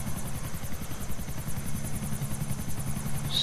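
Helicopter flying in a video game, a steady close rotor thump with continuous pulsing chop and engine whine throughout, no voices.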